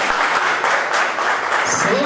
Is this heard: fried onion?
no